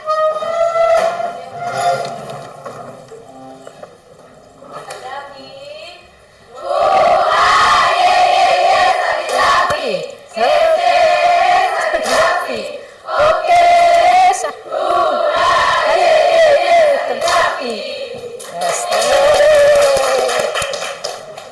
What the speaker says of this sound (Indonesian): Mari kita melantunkan yel-yel bersama-sama